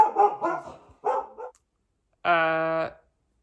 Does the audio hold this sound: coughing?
no